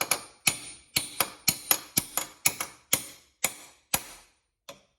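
A throttle shaft bushing is hammered into a Quadrajet carburetor over a bolt used as a guide, about a dozen sharp, close metallic taps in a brisk uneven rhythm, ending with one last isolated tap.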